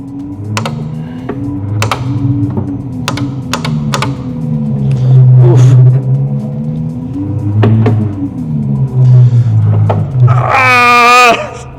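In a sim racing game, a race car engine drones and rises and falls through gear changes, then a sharp, rising tyre screech from a wheel locking under braking bursts out near the end.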